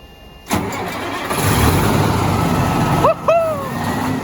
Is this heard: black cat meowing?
no